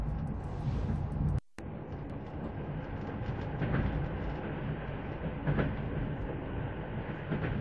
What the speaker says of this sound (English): It sounds like a mechanism has been triggered